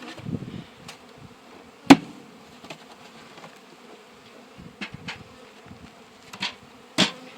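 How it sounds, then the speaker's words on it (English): Honeybees are bounced out of polystyrene nuc boxes into a wooden hive box, with a steady low buzzing hum broken by several sharp knocks and thumps as the boxes are jolted. "Mike, you gotta bounce the bees in there."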